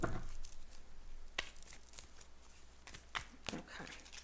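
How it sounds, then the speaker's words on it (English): Tarot cards are shuffled in a few quick riffling bursts, crisp and close, with short pauses between them in a quiet room. "Okay, I'm just gonna shuffle"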